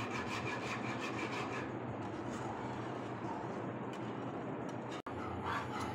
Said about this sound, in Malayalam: നല്ലപോലെ നല്ല വിസ്കറി കൊണ്ട് ഇളക്കിയെടുക്കാം.